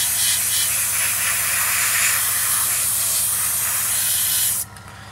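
Steady, loud hiss of an airbrush or spray can laying a coat of paint over a 1/48 scale Tamiya Spitfire Mk.1 plastic model kit, running continuously and then cutting off abruptly near the end.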